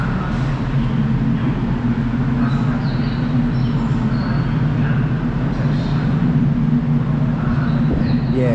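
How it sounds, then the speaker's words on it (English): A train pulling into a station in Japan, a loud steady low rumble and rolling hum that carries on throughout, with faint screeching hints and muffled voices in the background. "the train is actually almost here"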